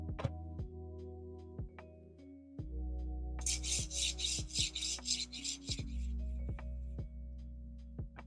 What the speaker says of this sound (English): the sound of that rail going back and forth